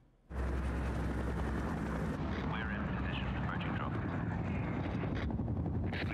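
A loud, steady helicopter roar with a constant chopping drone, close and continuous throughout.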